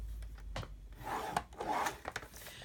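Paper being scored on a paper trimmer for a thankful box, giving short scraping rubs and a couple of sharp pressing sounds, close and fairly quiet, with no talking.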